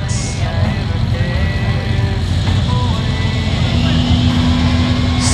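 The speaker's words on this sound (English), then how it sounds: "Diesel with wheel speed." A diesel mud truck revs hard with its wheels spinning at a mud ranch bounty hole event, the engine a loud, continuous roar that rises and holds, a rising whine near the end, with crowd noise underneath.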